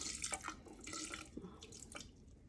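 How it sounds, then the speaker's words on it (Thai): About 150 cc of vinegar pours into a jar of ume plums as a faint, continuous liquid trickle with soft splashes, heard alone. "ร้อยห้าสิบซีซี ก็เทใส่ เดี๋ยวเขาจะทำปฏิกิริยาเอง"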